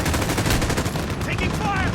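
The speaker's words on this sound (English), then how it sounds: "Holy hell, I'm getting blasted by the RPGs" RPG rocket blasts mixed with rapid gunfire in a video game, a loud, dense burst of explosions and shots packed into two seconds, with a voice faintly underneath.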